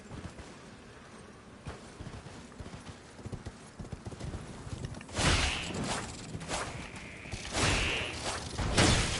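Horse hooves clip-clopping while riding in the Elden Ring video game, a rhythmic series of hoof strikes that grows louder and denser in the second half, mixed with mechanical creaks.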